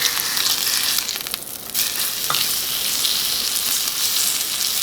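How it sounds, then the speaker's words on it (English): A T-bone steak sears in a cast iron pan with a loud, steady, close sizzle that crackles throughout, dipping briefly and then surging back. "So you're going to sear for 1 minute, flip it over, sear it for another minute"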